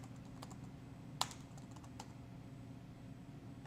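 A few quiet keystrokes on a computer keyboard while a site name is typed into Microsoft Access, with one sharper key click over a faint steady room hum and no speech.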